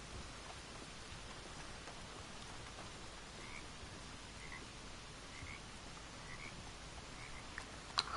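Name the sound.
rain falling, from a video game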